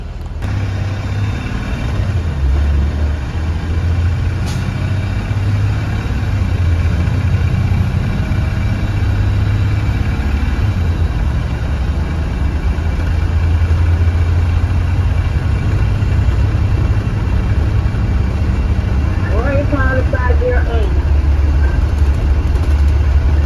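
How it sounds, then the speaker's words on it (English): Steady low rumble of a 2015 Blue Bird Vision school bus engine idling and moving through heavy traffic, continuous and fairly loud, with a brief faint chirping burst near the end. "there's so much traffic back here."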